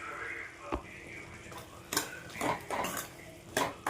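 Grated coconut stirred into a bitter gourd stir-fry in a pan, with intermittent clinks and scrapes of a spoon against metal over a quiet background.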